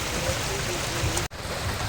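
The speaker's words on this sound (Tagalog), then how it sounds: "Maulan, malakas talaga ulan. Sumilong muna kami at sobrang lakas ng ulan, parang bagyo na." Heavy rain pours down steadily on a fishing trip for milkfish at a fishing spot in Metro Manila, a constant broadband hiss with a brief sharp cut in the middle.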